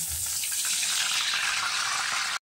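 Hot oil with a black cumin tempering hisses loudly as a little water goes in, a dense, continuous sizzle that holds steady close by, then cuts off abruptly at the end.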